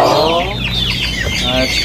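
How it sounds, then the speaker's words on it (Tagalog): Chickens clucking close by, a busy run of overlapping clucks and squawks from several birds. "papakain muna ako ng mga manok"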